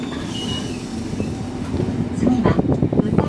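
A Randen tram in Kyoto pulls away from Narutaki toward Utano through the cherry blossom tunnel, a low rolling rumble building steadily with louder wheel and rail noise toward the end, while a voice talks over it.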